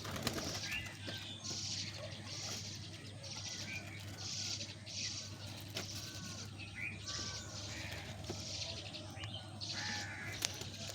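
Pigeons coo softly amid other bird calls, faint and somewhat distant, with a low background hum throughout.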